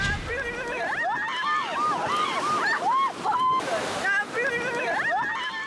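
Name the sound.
ocean waves washing onto the shore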